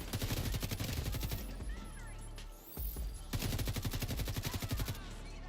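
A small gun in the video game XDefiant fires in rapid automatic bursts, loud and close, with a brief pause midway before the shooting resumes.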